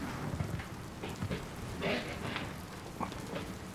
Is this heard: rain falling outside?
yes